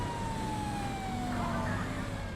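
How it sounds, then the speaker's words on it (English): A police car siren wails during a chase in the video game GTA 5 with realistic police vehicle mods, a steady sweeping tone sustained over a loud, dense background of traffic and engine noise. "Got the police chasing somebody."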